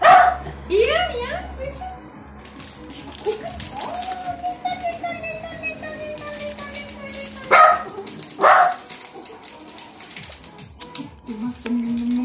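A dog gives a few short, loud barks close by while people talk around it, asking for a treat in a home setting.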